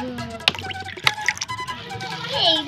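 Water splashes and drips from a small vessel into a miniature wok on a tiny toy stove, making a few sharp plinks and trickles, close and fairly quiet, with a faint gurgle toward the end.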